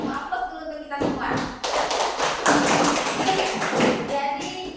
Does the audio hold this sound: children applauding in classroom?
yes